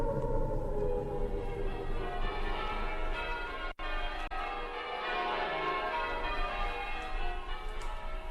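Church bells peal continuously in a dense, ringing wash, with one brief dropout midway.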